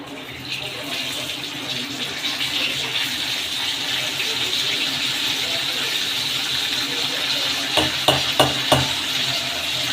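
Mustard seeds crackling in hot oil for a roasted-gram chutney tempering, a steady dense fizz of spluttering running throughout, with a few sharper pops near the end.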